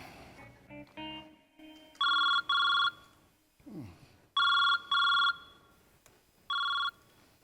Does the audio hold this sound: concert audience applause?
no